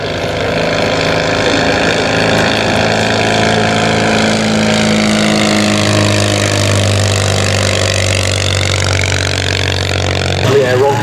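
A light aircraft, the Aeronca C3 with a 37 hp Mosler engine, drones steadily and loudly at an evening airshow, its engine note holding on and lifting slightly near the end.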